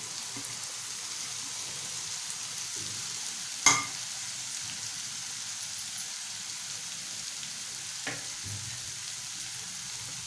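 Boiled potato pieces fry in a turmeric-seasoned pan with a steady, close sizzle, broken by one sharp stirring clank and a fainter scrape later.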